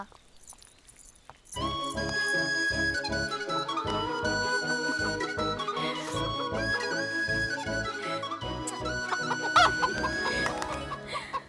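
A chicken clucks and squawks over a loud, steady rhythmic music track in a Tamil film scene, its calls cutting in and out through the busy backing.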